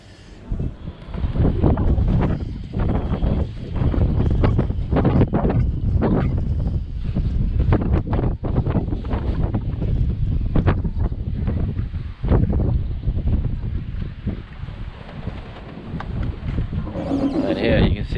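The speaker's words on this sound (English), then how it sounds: "It's going to be quite windy, so you won't be hearing me talk." Strong wind buffets a yacht harbour with super yachts moored close together, a loud, continuous gusty roar dominating throughout with rumbling low-end buffeting and no clear voices.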